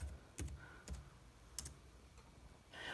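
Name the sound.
typing on a keyboard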